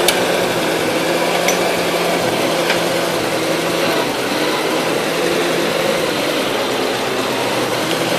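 A 1977 Gravely GMT 900 tractor engine idles steadily, giving a loud and constant close-up drone with a faint rattle. It runs alone for several seconds without voices.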